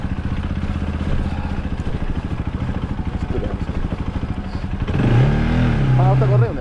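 A motorcycle engine labours and revs close by on a rough, rocky road in Nepal, its rhythmic putter swelling into a louder rev near the end, with a voice speaking over it.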